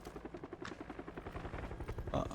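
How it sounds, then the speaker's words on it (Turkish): Helicopter in PUBG on the Erangel map, a steady rhythmic rotor chop pulsing throughout at moderate distance, with game sounds and some talk layered over it. "adamlar helikopterle gidiyor"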